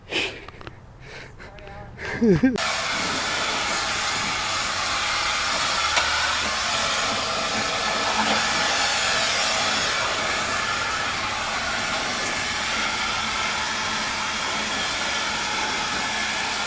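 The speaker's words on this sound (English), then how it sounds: "take your blower and the sawdust she's gonna make go away" An air blower clears sawdust from a custom wooden table build, a loud steady rushing whoosh lasting over ten seconds after a short burst of speech at the start.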